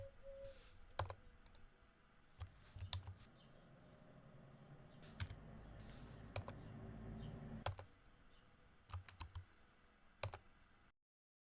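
Keystrokes on a computer keyboard driving a digital voice assistant, scattered taps in short bursts at moderate distance over a low background hum, with no voices.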